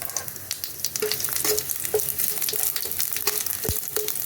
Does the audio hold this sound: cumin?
yes